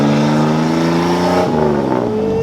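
A Lamborghini accelerating hard at an outdoor truck meet, its engine note rising steeply in pitch, a shift around midway, then climbing again, loud and close throughout with no talk.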